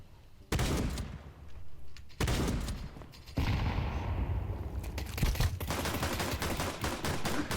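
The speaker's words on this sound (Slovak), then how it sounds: "Ty čo tam strieľaš bokom?" Rapid gunfire from Counter-Strike 2 online play, loud bursts of automatic and single shots cracking through the clip after a brief quiet start, with dense overlapping fire in the second half.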